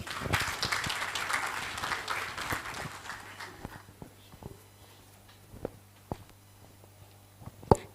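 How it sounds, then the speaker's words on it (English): Applause welcoming a speaker to the stage at a policy round table, a dense burst of clapping for about three seconds that thins out into scattered claps and footsteps, fairly quiet and distant. "with a round of applause, let's welcome Francisca to the stage"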